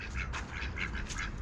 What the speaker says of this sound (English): Oh, these ducks, you guys can't see them